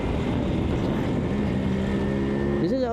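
A steady, loud engine drone with broadband road and wind roar throughout, rising in pitch near the end as the engine revs up.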